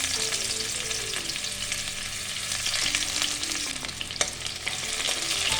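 Chopped onion fries in hot mustard oil in a wok with panch phoron, a continuous close sizzle broken by the scrape and clatter of stirring and a sharp knock near the end.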